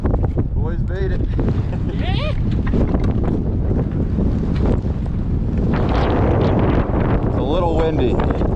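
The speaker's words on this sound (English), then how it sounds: "It's a little windy." Strong wind buffets the microphone on the Elk Summit mountain top along the Idaho backcountry route, a constant loud low rumble throughout, with a few high whistling tones and a voice speaking briefly underneath.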